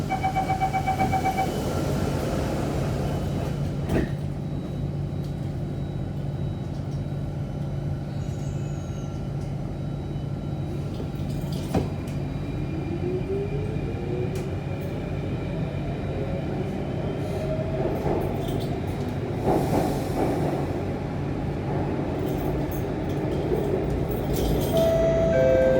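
An SMRT Circle Line Alstom C8 metro train runs between Paya Lebar and Stadium stations, its steady interior rumble and rolling hum continuous throughout, with faint rising motor whine and occasional clicks and brake hiss.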